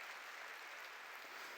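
Church congregation applauding together in a worship hall, a steady dense wash of clapping that holds at even loudness throughout, with no voices above it.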